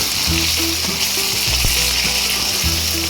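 Fish roe and potatoes frying in oil in a pan crackle and sizzle continuously and fairly loud close up, with scattered pops and a few stirring knocks.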